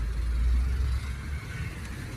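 A small tractor's engine idles nearby, a steady low rumble with a slight dip in level partway through, heard alone with no talking.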